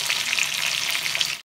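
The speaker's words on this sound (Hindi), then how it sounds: "थोड़ा सा, अभी से तेज आंच पर फ्राई करेंगे।" Tandoori-style chicken pieces fry over high heat in a pan, giving a steady, loud, close sizzle that runs unbroken for the whole short stretch with no voices.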